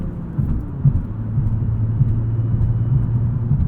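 A 2020 Nissan 370Z Nismo with a 6-speed manual revs toward its 7,500 RPM redline, a continuous low engine rumble and whir with no speech over it.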